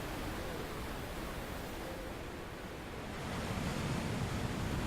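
Ocean waves break on the beach at Pipeline, Hawaii, a continuous broad wash of surf that swells slightly louder toward the end, with no voices.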